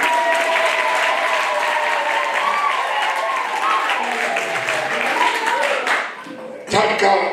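A church congregation claps loudly and steadily as a crowd, the applause fading out near the end followed by a brief final burst.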